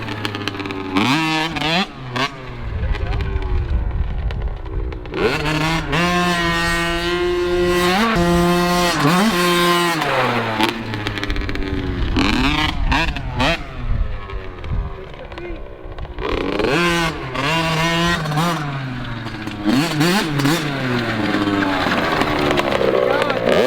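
A motocross bike rides a dirt track, its engine revving up and down in repeated surges and falling away between passes, fairly loud with wind buffeting throughout.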